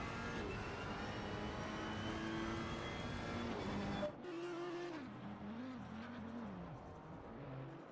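Race cars at Bathurst in Assetto Corsa Competizione on Xbox drone steadily with layered engine tones, then after a brief dip a single car's revs rise and fall through gear changes, loud and close throughout.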